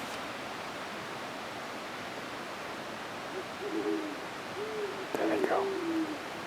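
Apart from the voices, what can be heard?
owls hooting and answering each other at camp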